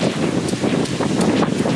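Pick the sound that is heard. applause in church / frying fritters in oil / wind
wind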